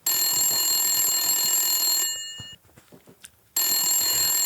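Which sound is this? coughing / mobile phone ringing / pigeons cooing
mobile phone ringing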